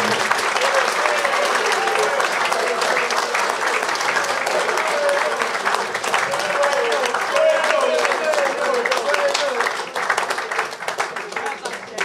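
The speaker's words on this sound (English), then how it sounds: "Can we give them all a big round of applause?" An audience at a football club awards night applauds the volunteers, dense sustained clapping that fills the room and tapers slightly toward the end.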